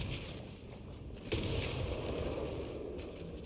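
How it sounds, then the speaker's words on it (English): Explosions and gunfire in the video game Mass Effect Andromeda form a faint, continuous rumbling battle din, with one sharper blast partway through and the roar carrying on after it. "Everything's exploding!"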